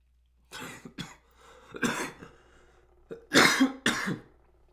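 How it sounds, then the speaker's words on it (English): A person coughing after being sick, several harsh coughs in uneven bursts with short pauses between them, near and fairly loud, with no talk over them. "I can't get rid of this cough after being sick."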